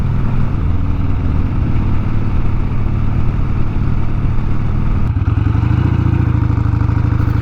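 A Harley-Davidson Ironhead motorcycle with carburetor coughing trouble and a slipping clutch rumbles loudly and steadily while being ridden, its deep engine note shifting and rising partway through.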